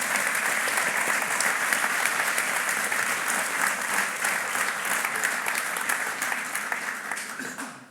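Sustained applause from a concert audience at a music event, dense and steady throughout before tapering off at the very end.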